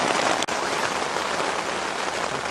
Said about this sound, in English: it's peeing down, so we'll have to hope this rain subsides